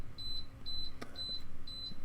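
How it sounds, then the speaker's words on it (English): An electronic device emits a repeating high, thin beeping, pairs of short tones at a steady rhythm with one sharp click partway through, heard alone in a quiet room. "I will say background beeping for the win."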